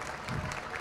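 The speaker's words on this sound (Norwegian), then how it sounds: "Stor applaus til neste deltaker." Brief burst of audience applause at a stage hypnosis show, a steady wash of clapping held at an even level for under a second.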